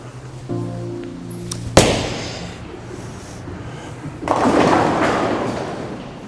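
A bowling ball thrown by a league bowler on a lane rolls and strikes the pins with one sharp loud crash, followed by a rumbling clatter that swells again later among the noise of a bowling alley.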